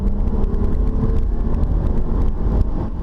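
A 2003 Lexus ES300 pulls away from a standstill, its engine giving a steady, loud, low-pitched drone that stays close and continuous throughout, with no talk over it.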